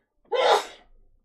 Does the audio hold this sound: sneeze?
yes